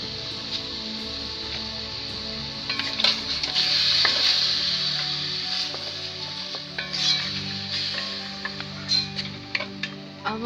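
Washed meat goes into an empty pot to simmer for Cameroonian Eru, with a steady sizzle and hiss, occasional clinks and stirring sounds, fairly loud and continuous.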